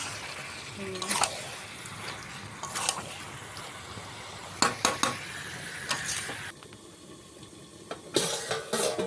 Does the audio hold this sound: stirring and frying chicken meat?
yes